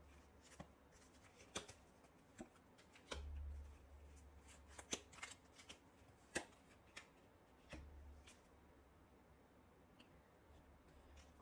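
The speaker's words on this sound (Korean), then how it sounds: "여러분과 그 사람의 관계에 대한 조언 카드 한번 뽑아보도록 할게요." Tarot cards are shuffled and drawn for a reading, giving a string of crisp, close card snaps and slaps at irregular intervals over a soft rustling bed, with no talking.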